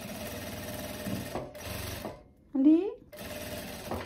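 A sewing machine stitches the end of a viscose-lycra belt in a steady close mechanical whir, with brief pauses between runs and a short spoken word over it.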